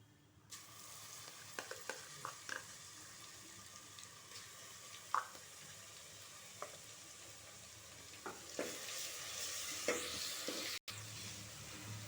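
Ginger garlic paste sizzles in hot oil, a steady frying hiss with occasional scrapes and taps of a spoon stirring the pan, close and fairly quiet.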